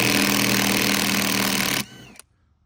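A power tool runs loud and steady on an 18 mm pitman arm nut of a Chevrolet C10 steering linkage, buzzing hard for nearly two seconds before cutting off, followed by a brief clatter and then quiet.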